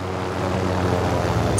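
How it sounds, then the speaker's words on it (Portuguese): A helicopter flies low in Call of Duty Warzone, giving a steady, close rotor-and-engine drone that stays loud and even for the whole moment. "É só voar rasa, eles vão ficar desesperados quando você chegar com esse helicóptero"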